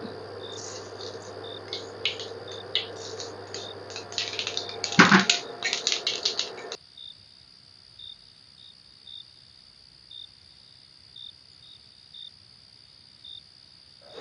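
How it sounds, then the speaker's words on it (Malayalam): Mustard seeds splutter in hot coconut oil for pappada thoran. A dense, rapid crackle and popping lasts several seconds, then thins to sparse, evenly spaced single pops. "വെളിച്ചെണ്ണ ചൂടാവുമ്പോൾ കുറച്ച് കടുക് ഇട്ട് കൊടുക്കാം"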